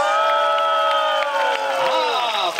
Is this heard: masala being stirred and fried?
no